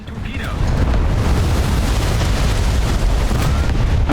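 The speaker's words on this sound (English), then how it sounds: "The enemy ship has been torpedoed." Torpedo hits on an enemy ship in a naval combat video game, heard as a loud, sustained rumbling blast with a continuous deep roar that swells and holds throughout.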